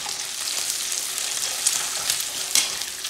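Egg frying in a pan with leftover chicken adobo fried rice, a steady hiss of sizzling with soft scraping stirs and a couple of brighter clinks, close and moderately loud with no talking.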